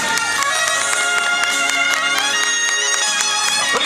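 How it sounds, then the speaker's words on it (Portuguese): A crowd at a birthday surprise for an older woman claps and cheers continuously, a bright, busy wash of hands and voices with no pause. "Mais palmas."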